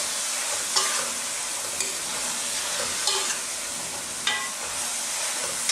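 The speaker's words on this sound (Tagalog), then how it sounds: "Stir lang po natin." Cabbage and beef fry in a pan for Filipino ginisang repolyo, a constant loud sizzle broken by several spaced stirring clatters, with no talk.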